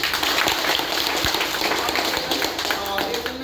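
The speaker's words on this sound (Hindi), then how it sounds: "इन सब के लिए जोरदार ताली होना चाहिए" Loud applause from an audience at a DXN product presentation, a dense wash of clapping held steadily across the whole stretch, with a few sharper claps standing out near the front.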